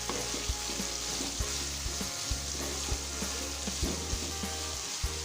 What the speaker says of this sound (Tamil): இப்போ இந்த காய்கறியெல்லாம் நல்லா வதங்கணும்.